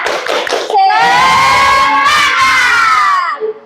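A classroom of children shout a loud, sustained unison cheer for a spirit clap, a chanted call rising into one long held group yell lasting about three seconds, close and energetic.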